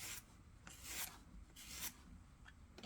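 A metal scraper rasps against a clay pinch pot sphere in close, repeated rubbing strokes, four broad scraping passes with short pauses between them, no talking.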